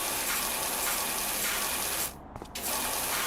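A pressure washer in the video game PowerWash Simulator blasting water at a dirty vehicle windshield, a loud continuous gushing hiss that cuts out briefly near the end, then resumes.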